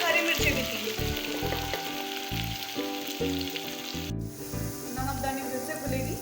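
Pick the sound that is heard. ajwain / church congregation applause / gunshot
ajwain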